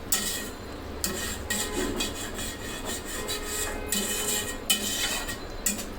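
Spiced liver curry stirred in a pan, a continuous scraping and rubbing of the spoon against the metal with soft sizzling beneath, close and fairly loud, with periodic sharper strokes.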